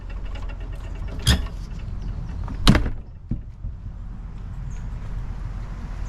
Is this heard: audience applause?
no